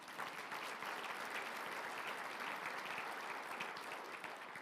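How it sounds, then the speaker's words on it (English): An audience at a city address gives dense, even applause from a crowd, heard at a moderate distance and holding steady throughout without any voices. "you can give a round of applause there"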